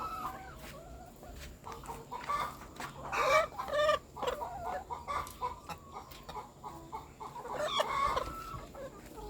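Laying hens in a coop cluck steadily in a chorus, with overlapping short calls rising and falling, fairly close, over a low background hum and no talking.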